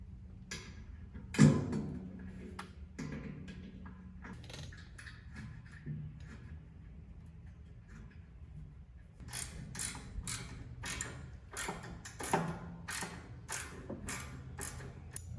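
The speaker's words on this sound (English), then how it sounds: "Now we'll tighten up the tank to the base and we'll finish tightening our fittings." Wrench work tightening fuel tank fittings on a 6 hp outboard motor: scattered metallic clicks and ratcheting ticks, sparse at first and then coming in a quicker, steadier run of close taps.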